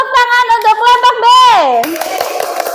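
A classroom of children breaks into a short burst of clapping for a group of pupils right after a child's sung-out voice, the applause lasting about a second.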